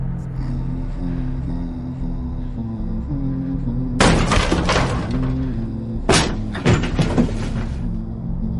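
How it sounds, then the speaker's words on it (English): A wooden cabin door in a Dead by Daylight story bursts open, two sharp loud crashing impacts with rattling and clatter following, set against a low sustained musical drone. "Suddenly, the cabin door burst open."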